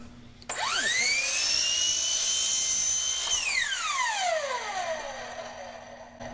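A power saw spins up with a rising whine, holds a loud steady high-pitched scream for a few seconds while cutting wood pieces, then winds down as the blade slows, close by with no talk.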